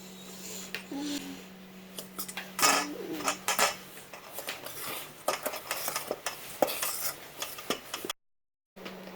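Cookie dough being stirred in a mixing bowl, giving irregular scraping and clinking strokes of a utensil against the bowl, fairly close and steady for several seconds, with a brief dropout near the end.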